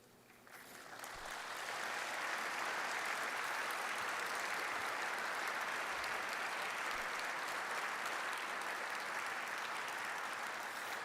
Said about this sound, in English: With the outstanding applause of the participants